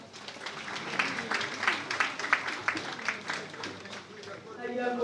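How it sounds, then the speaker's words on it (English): An audience at a Rwanda Women's Day event claps in applause: a sustained patter of many hands, moderately distant, with voices mixed in. "I want everyone to say thank you and to clap your hands for them."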